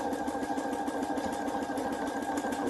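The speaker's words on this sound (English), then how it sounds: "I'm doing a test run to make sure that my buttonhole is where I need it to be." A sewing machine stitching a test buttonhole, a steady rapid mechanical whir with even rhythmic ticking, close and continuous with no talk.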